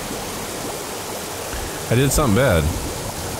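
Water rushes steadily in the Oxygen Not Included colony-building game, a continuous loud flowing hiss, with someone speaking briefly over it midway.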